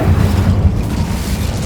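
A Hogwarts Legacy Incendio fire spell goes off as a steady, low, rumbling whoosh, loud and close, with no voices over it.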